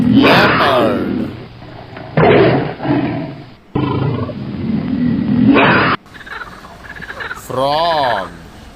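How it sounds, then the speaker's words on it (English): A leopard roaring in a sequence of loud, rasping bursts with short gaps, close and prominent, the final calls rising and falling in a sawing pattern. "Leopard."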